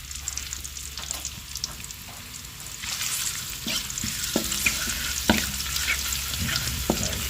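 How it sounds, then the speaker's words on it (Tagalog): Ginger sautés in oil left over from frying fish, the sizzle quieter at first, then swelling into a louder, continuous crackle with occasional sharp pops and utensil ticks. "gisa lang po natin yung ating luya"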